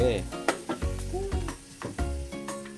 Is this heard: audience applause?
no